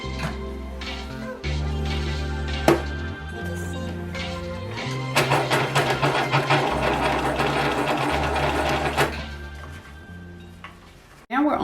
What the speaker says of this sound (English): then sew down as far as I can